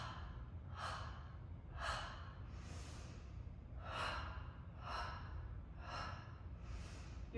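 Steady rhythmic breathing during a Pilates mat twist exercise, with about seven airy inhale and exhale bursts spaced roughly a second apart, close and clear with no talking.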